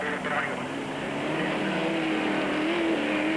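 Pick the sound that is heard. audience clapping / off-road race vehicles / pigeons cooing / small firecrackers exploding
off-road race vehicles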